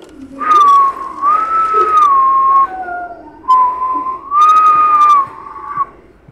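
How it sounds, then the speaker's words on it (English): A person whistles a wavering tune in two long phrases separated by a short gap, loud and close, with no talk over it. "I can do better whistling."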